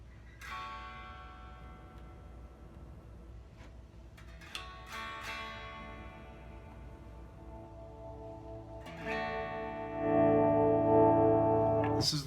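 A Gibson Gold Top electric guitar played clean through its neck pickup, with no distortion or chorus, rings out in separate plucked notes and chords that sustain and decay, growing fuller and louder near the end.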